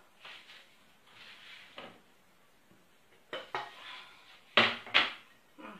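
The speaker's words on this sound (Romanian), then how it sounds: "Un tel ca să amestecăm și încă un bol." A whisk and mixing bowls for chocolate ice cream knock and clatter on a kitchen counter in scattered light clinks, growing louder toward the end with a couple of sharp, bright strikes.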